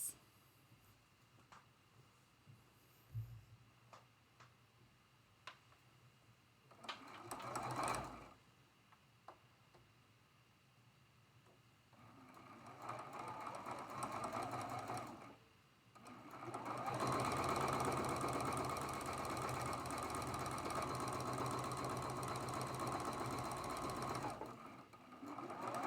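A sewing machine stitches a quarter-inch seam on a traditional Grandmother's Cross quilt block, first in short stop-start bursts, then in a long steady run near the end, with a few light ticks in the quieter gaps.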